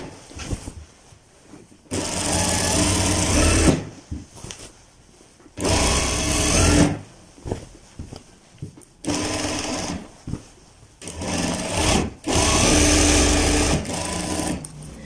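A sewing machine stitches a men's salwar in bursts of loud, steady whirring, with short quiet gaps between runs and no talking over it.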